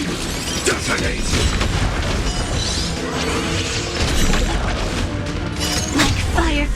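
A detonation in a Honkai: Star Rail cutscene, heavy booming and crashing blasts with rushing debris-like noise rolling continuously, loud and full, with a voice speaking amid the clamor.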